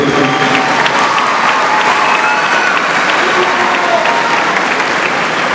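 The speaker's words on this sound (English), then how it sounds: "Graduates, let's give them all a round of applause for all the support they have given you." Graduates and their audience applaud at a 2019 high school graduation ceremony in Dallas, a loud, steady, sustained roar of clapping from a large crowd.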